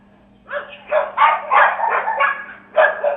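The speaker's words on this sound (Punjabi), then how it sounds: "ਕੁੱਤਿਆਂ ਦੀ ਆਵਾਜ਼ ਸੁਣ ਕੇ" A pack of stray dogs in a residential street barks repeatedly in quick irregular bursts, fairly close and loud over a faint steady hum, with no voices.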